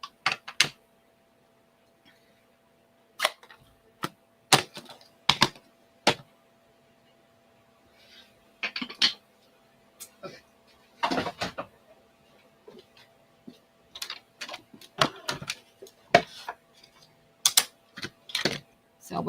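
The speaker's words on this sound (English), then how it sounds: "Die cut it out." A die-cut machine running a sailboat die and cutting plate through cardstock gives sharp, scattered clicks and short mechanical bursts at close range, with quiet gaps between them.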